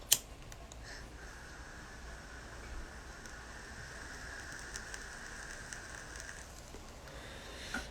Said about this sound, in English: it's raining outside, so we got water there